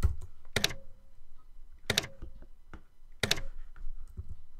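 Typewriter sound effect triggered from LÖVE (Love2d) 0.9.0 game code: three sharp clack-and-ding bursts spaced about a second and a half apart, with lighter key clicks between them, fairly quiet and with no talking.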